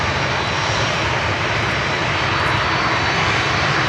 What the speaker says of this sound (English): Next inbound. 777-200 American Airlines flight 1469 from Cancun in Mexico.